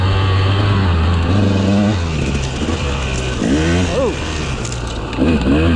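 A KTM 200XC two-stroke dirt bike runs under a rider, its engine droning loud and close with rising and falling revs. Wind buffeting and bits of speech come through over the engine.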